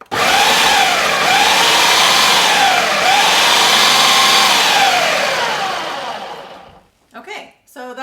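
A loud blender whirs in bursts, its pitch rising and falling across several pulses, then cuts off, leaving a few faint sounds at the end.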